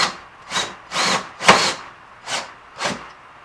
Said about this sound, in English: So I'm just drilling the pilot hole